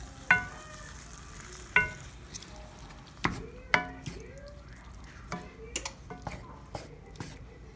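Canned crushed tomatoes cook in a pan with a soft background sizzle. A utensil stirs through them now and then, making scattered taps and scrapes.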